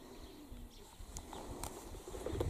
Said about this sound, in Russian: Воробьи радуются жизни, чирикают.